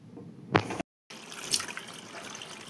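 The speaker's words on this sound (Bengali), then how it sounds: "আমি ট্যাংরা মাছের তেল ঝাল বানাবো, তার জন্য মাছগুলো আমি ধুয়ে নিচ্ছি।" Tangra fish are washed by hand under running water, a close splashing trickle with a sharp splash near the start, a brief cut to silence, then continued gushing and dribbling.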